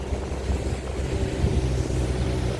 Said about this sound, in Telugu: షిప్లో ఏదో ఇంజిన్ స్టార్ట్ చేశారు, సౌండ్ వస్తుంది.